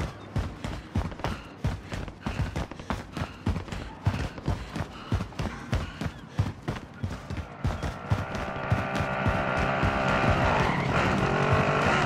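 A car driving in the game Call of Duty: Modern Warfare, with a loud, rough engine rumble and repeated rattling bumps, then a rising sustained engine roar as it speeds up.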